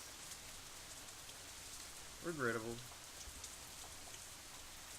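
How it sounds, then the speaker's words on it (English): Rain falls steadily in a soft continuous hiss, from the visual novel Katawa Shoujo, with a brief spoken voice over it partway through. "Instead, the rain seems to increase."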